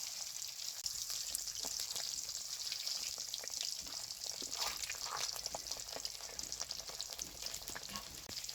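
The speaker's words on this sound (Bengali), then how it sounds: "ডিমটা ভাজা হয়ে গেছে" An egg fries in hot oil with turmeric, giving a steady close crackling sizzle with popping spatters throughout and no talk.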